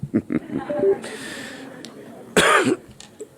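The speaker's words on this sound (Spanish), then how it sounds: "Me van a disculpar un poco la tos" A few coughs and throat-clearing bursts, close to the microphone, with a harsher, louder cough near the end.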